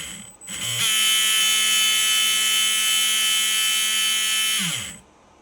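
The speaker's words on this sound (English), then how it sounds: "I just run the auto motor test because it's the easiest and it's noisy" Electric motor spun up during an auto motor test, a loud sustained high-pitched whine with steady buzzing harmonics, rising quickly, holding for about four seconds, then winding down.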